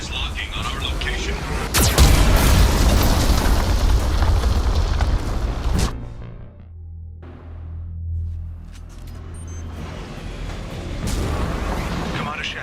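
Heavy booming blasts and a roaring rumble of Geth cannon fire in a Mass Effect 2 battle, loud at first, then a quieter low rumble with scattered electronic tones.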